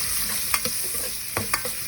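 Garlic and onion fry in a pan with a steady close sizzle, broken by a few brief scraping stirs of a utensil.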